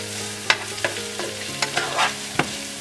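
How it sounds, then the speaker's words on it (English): Ingredients with a Ceylon cinnamon stick and salt are sautéed together in a pan for a cabbage stir fry, a low sizzle broken by about six sharp spatula scrapes and knocks. "We'll go ahead and saute all these ingredients together."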